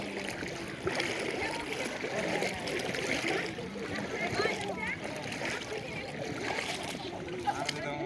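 Strong current of the Padma river rushing and splashing steadily throughout, broad and continuous, with people talking over it.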